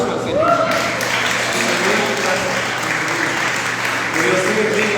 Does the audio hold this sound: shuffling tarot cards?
no